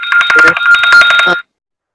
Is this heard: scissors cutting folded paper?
no